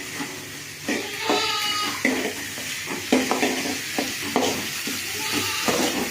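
Onions sauté in a pan with green chilies, mustard seeds and chana dal for tomato sambar, a close sizzle broken by repeated scraping stirs at a rough, uneven rhythm.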